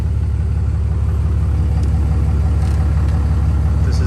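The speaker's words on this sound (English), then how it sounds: "I hope you can listen to the exhaust sound." A 2012 Ram 2500 SLT pickup idles with a steady, deep exhaust rumble, close and constant with no talking over it.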